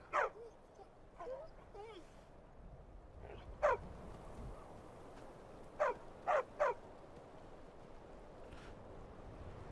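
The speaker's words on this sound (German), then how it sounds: "Das ist ein Hund." A dog in Skyrim barks in short separate bursts, a single yap, then a louder one, then a quick run of three, over a steady outdoor game ambience with soft wind-like hiss.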